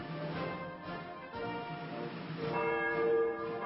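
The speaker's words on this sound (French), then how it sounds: "le petit Max est impressionné par le rituel catholique, les sonneries des cloches" Church bells ring beside a cathedral in an older, muffled recording. The layered tones sustain steadily at moderate volume throughout.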